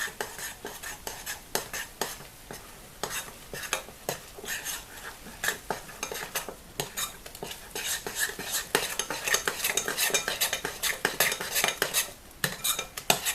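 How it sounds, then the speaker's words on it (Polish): A spoon stirs oat yeast dough mixed with bran and cinnamon in a bowl, close up. The scraping and clinking come in a steady rhythm that grows busier and louder toward the end. "No i to wszystko teraz mieszam."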